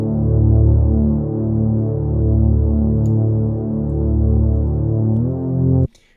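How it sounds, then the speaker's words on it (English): Warm, driven Reese bass synth patch built in Serum, a loud sustained low detuned tone with slow throbbing phasing that holds for several seconds, then cuts off abruptly into near silence. "we have a very nice warm sounding Reese bass"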